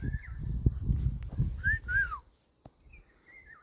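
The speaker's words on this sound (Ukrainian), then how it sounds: "Так вони свистять." Pet birds give a few short, thin whistles close by in a quiet outdoor setting, mixed with brief murmuring voices at the start.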